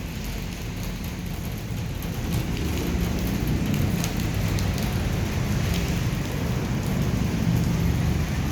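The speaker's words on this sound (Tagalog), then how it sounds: "Maulan lang" Steady rain falls outdoors in foggy weather at Tagaytay, a dense, even hiss of drops on surfaces that holds at a constant level throughout, with no voices.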